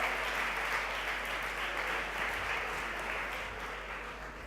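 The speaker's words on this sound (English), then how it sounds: "Please welcome him with a warm applause" An audience at a startup conference session claps continuously, a dense, even wash of applause filling the hall without pause, steady in loudness from start to finish.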